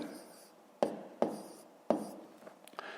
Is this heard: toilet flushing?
no